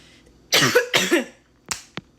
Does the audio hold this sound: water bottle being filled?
no